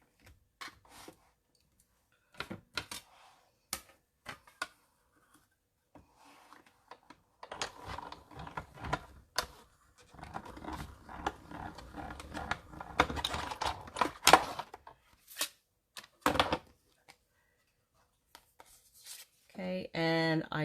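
Embossing folder cranked through a manual die-cutting machine, giving scattered sharp clicks and ratcheting rubs that build into a denser grinding run midway and then thin out again, quiet and near, with no speech.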